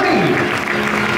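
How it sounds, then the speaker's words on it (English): An audience at a West Coast Swing dance festival pro show gives a loud, continuous round of clapping. The sound is close and dense, with some crowd noise and a brief vocal tone mixed in. "Give him one more big round of applause."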